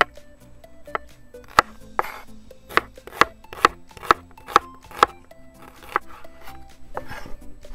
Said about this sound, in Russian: Лук нарезаем по стандарту полукольцами.